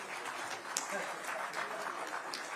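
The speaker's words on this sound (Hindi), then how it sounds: "और तालियां जरा आप सबकी तरफ से जोरदार हो जाएं" Faint, steady applause fills a Haryana government award ceremony as the crowd claps continuously for the awardees, heard from a distance with no clear break.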